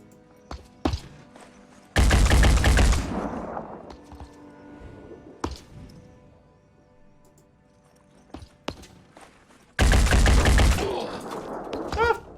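Gunfire in the tactical game Phoenix Point: two loud bursts of rapid automatic shots, a couple of seconds each and several seconds apart, with scattered single sharp cracks and quiet lulls between.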